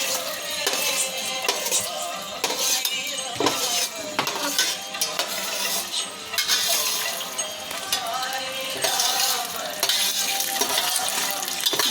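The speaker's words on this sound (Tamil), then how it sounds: "நல்லா வதக்கி விடு." Ingredients for a mint and coriander chutney, including chana dal in olive oil, are sautéed and stirred in a pan: steady sizzling with repeated scraping and clinking of a spatula against the metal, close and continuous.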